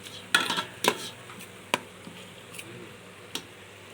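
Onion, garlic and masala paste being stirred in a pan for egg biryani, with a few sharp spatula scrapes and clinks against the pan over a soft background hiss, no talking.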